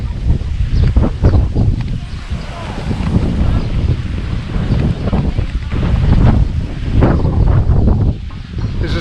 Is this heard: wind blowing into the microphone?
yes